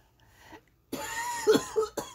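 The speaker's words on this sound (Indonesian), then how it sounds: "oh, batuk." An elderly woman coughs indoors in a home: a faint sound early on, then a few close, harsh coughs in quick succession, fairly quiet overall.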